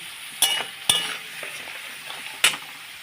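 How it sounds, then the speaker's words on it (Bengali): Potatoes fry in a pan of hot oil as turmeric goes in for a Bengali potato, eggplant and prawn curry, giving a soft steady sizzle broken by three sharp clinks of a utensil against the pan. "আলুটা যাচ্ছে ভেজে এবার এর মধ্যে আমি দিয়ে দিচ্ছি হলুদ"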